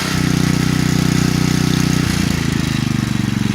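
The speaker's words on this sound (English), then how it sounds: "Take it from an idle to full speed." An old gas generator converted to run on propane drones loudly and steadily close by, its engine note shifting partway through as it is throttled up from idle toward full speed without faltering.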